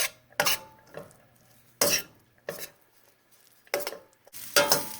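A spoon stirs yellow curry rice in a pot, making several distinct scraping and clinking strokes in an irregular rhythm, close and fairly loud, with quiet gaps between them.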